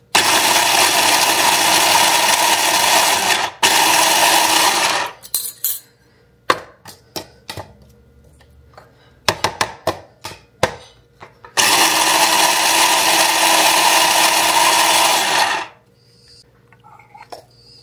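A loud electric chopper whirs in two long bursts, separated by a stretch of clinks and brief clattering knocks.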